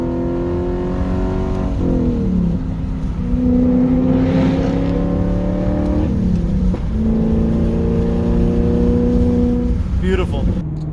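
A BMW E39 540i V8 driven hard at speed revs up and down through several gear changes, its deep engine roar rising and falling in sweeping pitch, loud and close throughout.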